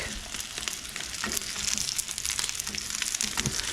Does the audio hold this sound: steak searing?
yes